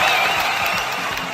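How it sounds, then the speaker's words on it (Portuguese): A steady wash of applause and crowd noise from a studio audience, with a faint whistle or cheer riding over the clapping throughout. "Uma salva de palmas."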